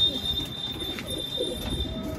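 Multani Siraji pigeons coo softly in low murmuring rolls against steady background noise, with no one speaking.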